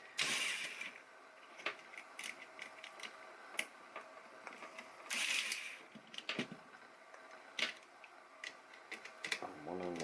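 Small screws are worked loose from the pusher mechanism of a Nerf Spectrum blaster, giving a series of close, sharp ratcheting clicks and scrapes in irregular bursts, with a brief plastic rattle near the end.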